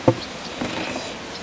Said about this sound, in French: On va voir nos petites abeilles.